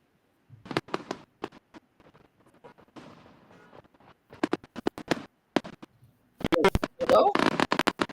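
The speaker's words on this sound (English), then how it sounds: "I hear like firework." Scattered sharp cracks and pops of fireworks going off at a distance, irregular bursts clustering near the end, with people talking faintly in between.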